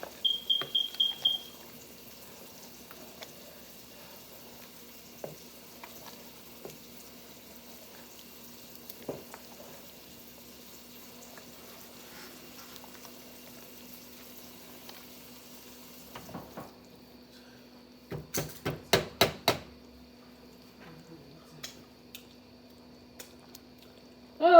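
A spoon stirring Nigerian bitter leaf (onugbu) soup in a pot over the fire, faint scraping and squishy stirs scattered across a quiet stretch, with a few louder clustered knocks near the end.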